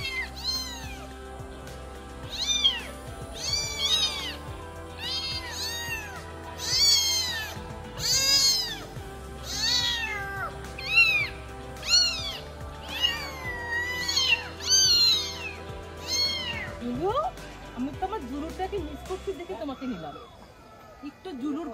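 Several cats at a pet market in Katabon meow over and over in a long, steady series of close, clear cries, some overlapping, with a brief background voice near the end.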